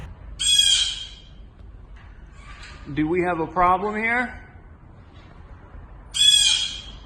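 A bird perched on top of a car lift in a garage squawks persistently and loudly, in harsh bursts at the start, middle and end, while someone talks.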